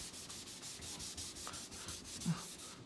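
Car body filler is hand-sanded with fine abrasive around P240 grit, a steady rhythmic rasping of repeated back-and-forth strokes, close and fairly quiet, with no talk.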